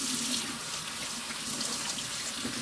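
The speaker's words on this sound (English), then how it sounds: "I'm going to wash my hands real quick here." Kitchen water tap running steadily into a sink while hands are washed under it, a close, continuous splashing rush with slight irregular spatter and no talk.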